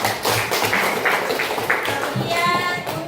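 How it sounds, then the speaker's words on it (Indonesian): A classroom of students clapping for a classmate during an Islamic studies lesson, a steady, dense patter of many hands throughout, with faint voices mixed in. "tepuk tangan untuk temannya"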